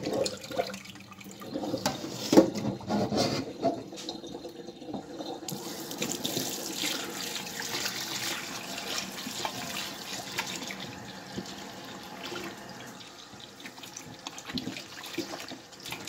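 Running tap water pours over flour dough being rinsed and kneaded by hand in a sink to wash out the starch for seitan, a steady close splashing stream with shifting gurgles and no talking.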